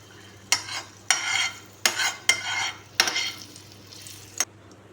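Cashews and raisins fried in ghee in a pan for kesari, stirred in five or six quick scraping bursts with sizzling between them, close up with no talk.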